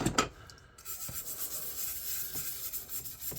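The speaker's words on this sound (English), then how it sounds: "we're going to try to get the majority of this surface rust off here with a wire brush" A wire brush scrubs surface rust off an old wood plane, giving a steady close scratchy rubbing with repeated strokes and small knocks.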